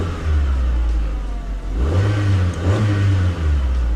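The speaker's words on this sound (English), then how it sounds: "Now it's idling nice, we're good to go." A car engine running steadily after new fuel injectors, with a smooth mid-range drone that swells briefly in a couple of light revs before settling back, close and loud with no talk.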